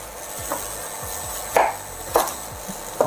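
Knife chopping a carrot on a cutting board, several sharp close taps spaced about half a second apart over a faint kitchen background.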